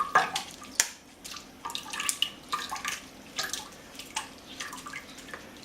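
Stock liquid is pushed through a strainer with the bottom of a ladle, giving a quiet run of irregular drips, splashes and small wet squelches close by, with no talking.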